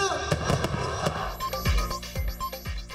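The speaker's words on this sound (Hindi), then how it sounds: "जश्न आजादी के मौके पर मुल्क भर में आतिशबाजी के शानदार मुजाहरे।" Fireworks for Pakistan's Independence Day celebration on 14 August crackle and thump in a rapid series of sharp bursts, followed by deeper booming blasts, with some faint voices underneath.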